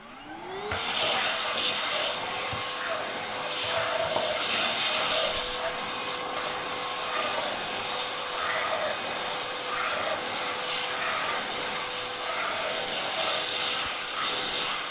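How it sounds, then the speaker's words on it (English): A vacuum cleaner whirs steadily throughout, a loud continuous motor drone with a high whine, running alone with no talk. "I'm going to trash this and vacuum real quick"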